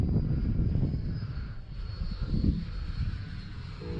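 A Freewing L-39 RC model jet flies on its maiden flight, its electric ducted fan giving a steady whooshing whine with a slight dip and swell as it passes high overhead.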